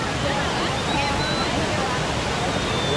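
The Prumirim waterfall in Ubatuba, beside the Rio-Santos road, roars as a loud, dense and continuous rush of falling water heard up close.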